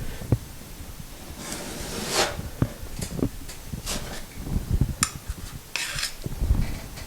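A thick putty knife scrapes and smooths filler over a small hole in drywall, giving intermittent rasping strokes and short scraping swipes at close range with no talk.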